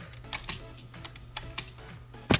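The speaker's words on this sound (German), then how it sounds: "Eigentlich Tastatur hört man extremst." Scattered computer keyboard key presses click close by over a low steady hum during Minecraft play, a handful of separate taps ending in a sharper, louder keystroke.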